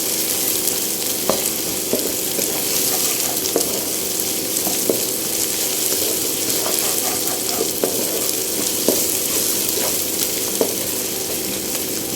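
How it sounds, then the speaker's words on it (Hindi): Garlic and ginger frying with onions in a pan for chana dal gosht, a steady close sizzle with scattered pops and stirring clicks throughout. "इसको भी प्याजों के साथ अच्छे से फ्राई कर लेना है"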